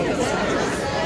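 A crowd of protesters calling for citizenship, a dense murmur of many overlapping voices chattering close by, steady and loud over a brief moment.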